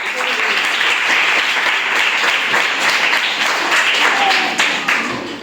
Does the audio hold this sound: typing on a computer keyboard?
no